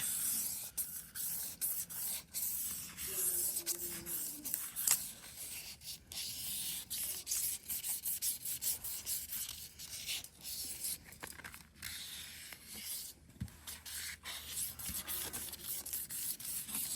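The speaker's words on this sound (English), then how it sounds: "I have to sand off just a little bit of that." Sandpaper rubs over a cured, glass-smooth epoxy surface on a coffee serving tray to scuff it, making continuous close scratchy strokes in a steady back-and-forth rhythm for the whole stretch.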